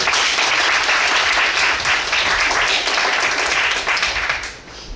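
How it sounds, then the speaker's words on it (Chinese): Warm applause from the audience at a book launch, a dense, steady round of clapping that fills the room and fades slightly at the end. "请大家以热烈的掌声。"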